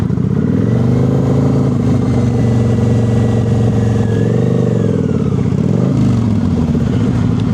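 A motorcycle engine runs steadily and loud at close range as the bike pulls off and brakes, with a brief rise and dip in engine pitch partway through and no talk.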